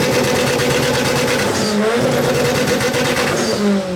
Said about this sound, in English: is the sound of 600 some odd horsepower